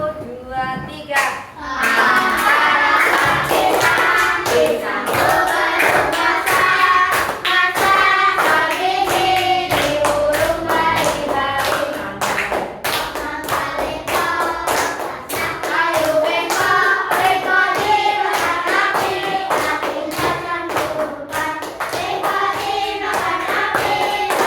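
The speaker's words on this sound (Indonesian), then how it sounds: "Boleh sambil tepuk tangan." A classroom of children sings together while clapping their hands along to the song, a steady busy texture of voices and rhythmic claps running throughout.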